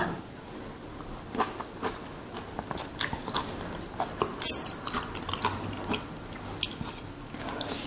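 Ripe yellow mango being eaten up close, with soft wet bites and chewing clicks scattered in an irregular rhythm over a faint background hiss, no talking.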